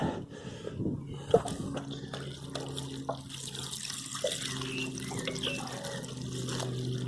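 Water poured from a 7-litre watering can onto plants in brick planters, a steady splashing flow running throughout at close range, with a few light knocks.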